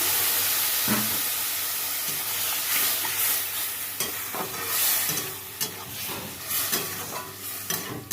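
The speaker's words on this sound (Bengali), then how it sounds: "এখন আমি এটাকে জল দিয়ে দিচ্ছি" Water poured into a pan of frying tengra fish sets off a steady, broadband sizzle and hiss, with scattered crackles and pops and occasional stirring knocks, fairly close and with no voices.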